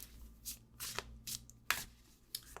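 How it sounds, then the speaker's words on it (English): Tarot cards being shuffled in short riffling bursts, quiet and close, with brief pauses between the shuffles. "Pisces money message for October 2023"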